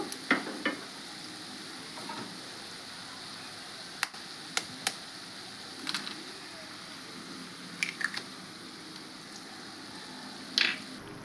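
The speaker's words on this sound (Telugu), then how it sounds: "ఇప్పుడు నేను గుడ్లు వేస్తున్నానండి గుడ్లు వేస్తున్నాను" Eggs being added to amaranth leaves frying in a pan, a constant low sizzle with scattered sharp clicks and scrapes of stirring, fairly quiet and close, with no talk.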